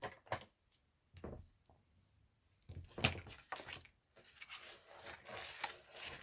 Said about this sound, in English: And you want to fold and burnish.